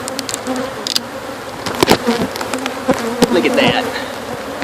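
Close, loud buzzing of a honeybee colony exposed during a cut-out from a wall where a window used to be, with individual bees zipping past in sharp swells over a constant hum, and someone speaking briefly.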